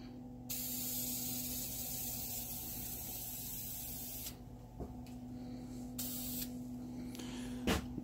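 An aerosol can sprays a quick coat of finish onto a hardwood picture frame made from flooring scraps, a loud close hiss in two long bursts with a few short puffs at the end, no voices.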